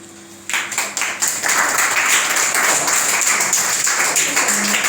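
A school audience at a Children's Day celebration claps after a tribute to Chacha Nehru; applause starts abruptly after a brief quiet moment and then holds as a dense, steady wash of many hands.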